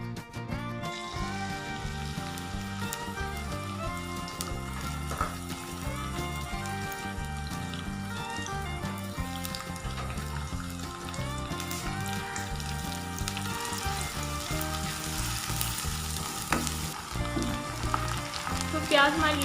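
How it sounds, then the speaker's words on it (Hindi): Finely chopped onion fries in cooking oil in a kadai, giving a continuous, fairly quiet crackling sizzle that runs throughout with occasional louder pops. "अब मैं प्याज ऐड कर रही हूँ बारीक चॉप किया हुआ।"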